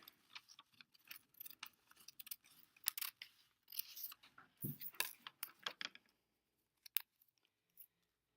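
Scissors snip through paper in a quiet room, a string of short, crisp cuts in an irregular rhythm, close and clear, trailing off into a few isolated snips.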